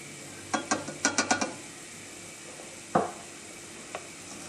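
Minced meat browning in oil in a pan for a Turkish baked potato dish, a quiet sizzle under a quick run of spoon scrapes and stirring clicks, then a louder single clank and a faint tap later.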